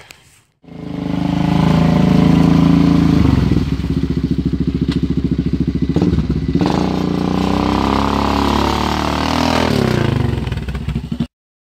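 A vehicle engine drones loud and steady, then the vehicle rams a rotten wooden post, giving a heavy thud and clattering crunch mid-run before the motor keeps labouring and cuts off.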